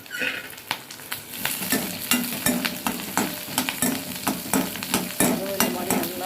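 Chopped onion for pirandai chutney sautés in a pan, a steady sizzle broken by frequent sharp scraping and clacking stir strokes, close and fairly loud, with no voices.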